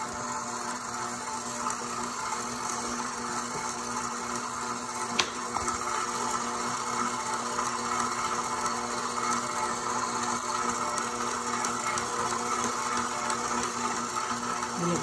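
A stand mixer kneading challah dough runs at a steady, continuous whir with a constant motor hum and a single brief click partway through, close and unbroken, with no one talking.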